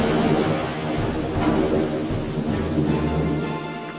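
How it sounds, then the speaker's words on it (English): A thunderstorm in the Chernobyl area pours heavy, steady rain, with deep rolling thunder rumbling continuously beneath the loud, dense patter, and no voices. "thunder and lightning drown out the relentless beating rain"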